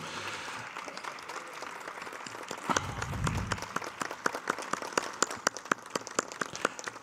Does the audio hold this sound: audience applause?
yes